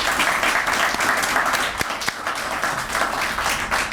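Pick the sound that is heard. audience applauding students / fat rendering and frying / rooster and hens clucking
audience applauding students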